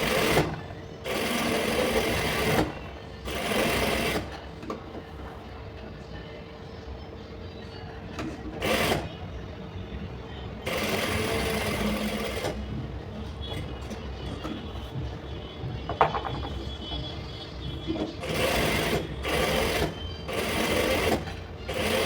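A sewing machine stitches patchwork fabric in several loud, close bursts of fast, even mechanical whirring, separated by short pauses, with almost no talking.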